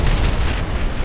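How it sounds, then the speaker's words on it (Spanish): A deafening explosion effect in a dramatic fantasy story, heavy and booming, with a dense low rumble that rolls on through the short burst without pause. "una ensordecedora explosión retumbó por todo el valle, helándoles la sangre en las venas"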